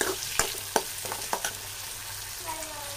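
Small tomatoes fry steadily in a pan for pasta, a continuous close sizzle broken by several sharp clinks of a utensil stirring against the pan in the first half.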